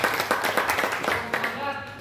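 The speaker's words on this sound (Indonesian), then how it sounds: "tepuk tangan buat anda semua" Applause from attendees at an Islamic finance business seminar: brisk, close clapping from a roomful of people, rapid and fairly loud, easing slightly toward the end with a faint tone underneath.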